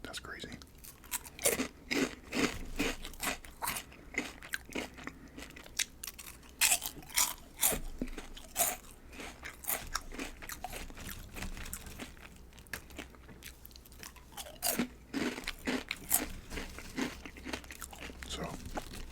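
Close, crisp crunching and chewing of Cheetos Flamin' Hot fries, with repeated sharp bites and steady mastication at an irregular rhythm, plus occasional crinkling of a snack bag.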